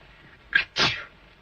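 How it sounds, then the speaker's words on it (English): A single sneeze, a short sharp intake followed by a louder burst, close by and otherwise quiet. "My goodness, she sneezed."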